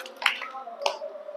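Children clap their hands during a classroom counting game, two sharp claps about half a second apart with a faint voice continuing underneath.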